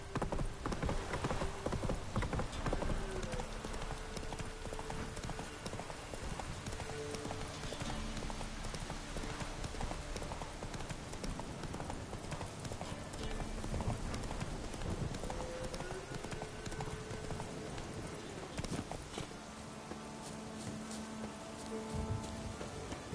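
Geralt's horse Roach galloping in The Witcher 3, a continuous rhythmic clatter of hooves under game music, steady and moderately loud throughout.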